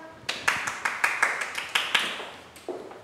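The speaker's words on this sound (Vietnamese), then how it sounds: "Mọi người cho chị một tràng pháo tay nào" Audience clapping in a steady rhythm at a livestreamed event in Vietnam, about a dozen sharp, fairly close claps in a row that trail off at the end over faint background murmur.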